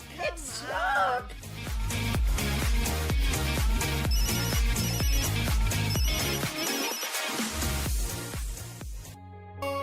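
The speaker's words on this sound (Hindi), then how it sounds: "ओफो, आज भी फोन नहीं उठाया। कल से फोन कर रही हूँ, बार बार मिला रही हूँ" A telephone rings on and on without being answered, a repeating electronic ring tone over a dense, loud bed of background music, with a brief voice near the start.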